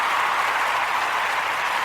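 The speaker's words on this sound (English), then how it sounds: "Let's give them a round of applause for work well done." A crowd applauds a beautiful fish tank with steady, dense clapping that holds at an even loudness throughout.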